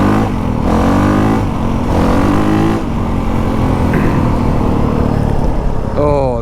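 A new dirtbike engine revs up and drops back repeatedly while the rider gets used to the clutch, a loud, close rising whine in several pulls with one final sharp rev at the end.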